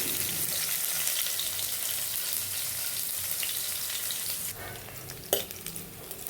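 Garlic, cumin, mustard seeds and three dried red chillies frying in oil for a bottle-gourd dal tempering, a steady close sizzle with a brighter crackling surge toward the end and a single utensil clink.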